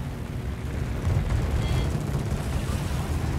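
Rocket strikes and a fire landing on the cruiser New Orleans in World of Warships, heard as a dense, continuous low rumble of explosions and booming impacts that swells slightly midway and holds steady and loud.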